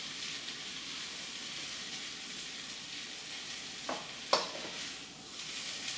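Okra and spinach soup cooks in a pot with a soft, even bubbling hiss, broken by a couple of brief stirring scrapes and a light clink near the end, faint and close.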